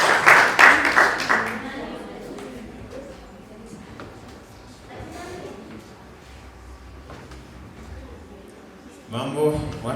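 Audience applause at a nursing students' dinner in a hotel, rising loud at the start, then fading under a speaking voice, with another burst of clapping near the end.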